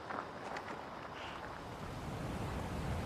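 Ocean surf rolls and breaks at a beach where an under-16 boys' surfing heat is under way, a steady wash of waves with wind buffeting the microphone and no talk.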